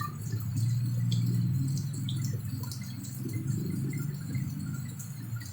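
Rain falling with water dripping while children bathe outdoors, a steady wash of patter and scattered drips, with a low rumble underneath and no talking.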